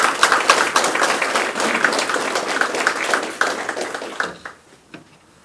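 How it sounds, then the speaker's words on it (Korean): A crowd in a city hall conference room applauds at an association chairmen's inauguration ceremony, with lively close clapping that holds for about four seconds and then dies away to a few scattered claps. "큰 박수 한번 더 주시기 바라겠습니다"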